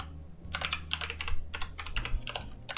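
Rapid keystrokes on a computer keyboard as a folder name is typed, a burst of close, clattery clicks in quick irregular clusters over a low steady hum, with no talking.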